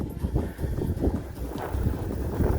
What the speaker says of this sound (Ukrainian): бо вітер здуває, тормозить і тягне назад